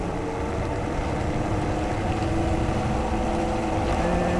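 A Super Soco Wanderer electric motorbike climbs a steep hill from a standing start at full throttle, a steady roar of wind and road noise with a faint continuous motor whine underneath.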